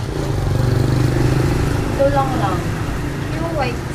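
A motorbike engine hums and passes nearby on a street in Angeles City, Philippines, its drone shifting in pitch, while people talk over it.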